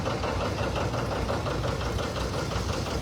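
An early tractor at a tractor parade during a classic reunion in West Bend, Wisconsin, runs with a steady knocking engine chug, a close, even mechanical rumble that continues throughout.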